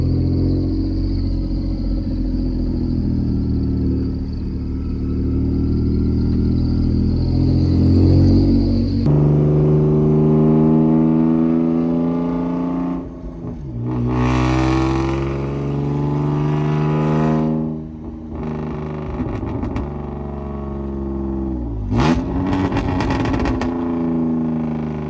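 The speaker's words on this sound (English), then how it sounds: "and the exhaust is very loud." A car with a freshly repaired clutch runs with a very loud exhaust, a steady deep rumble that swells through several revs and gear changes, close and continuous with no talk.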